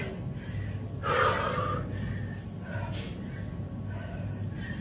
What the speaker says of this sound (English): You can tell by the way I'm breathing.